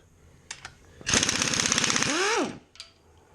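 A compressed-air impact tool rattles in a burst of about one and a half seconds while loosening a bolt on a Jaguar MKII engine, loud and close, then winds down, with short clicks before and after.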